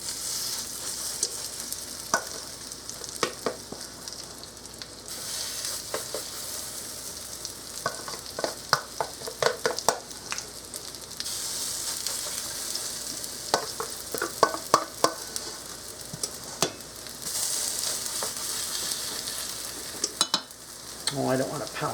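Potato pancakes fry in hot oil with a continuous close sizzle, punctuated by scattered clicks and scrapes of a utensil working in the pan.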